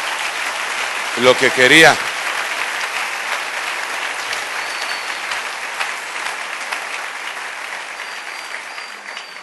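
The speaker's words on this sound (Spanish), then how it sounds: "denle un aplauso al Rey bendito" A church congregation claps for the King during a worship service, a loud sustained wave of applause with a preacher's voice speaking briefly over it near the start.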